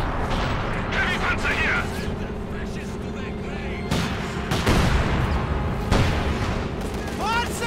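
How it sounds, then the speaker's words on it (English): Mortar rounds and gunfire in a Company of Heroes 2 match, repeated muffled booms and crackling shots over a dense battle din, with a commentator talking throughout. "Mortar rounds continue to fly in."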